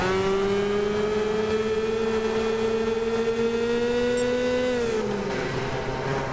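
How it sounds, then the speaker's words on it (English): A 125cc go-kart engine in the Gran Turismo 6 racing game revs steadily at a high, buzzing pitch, then drops briefly as it shifts near the end, loud and continuous with no talking. "That revving."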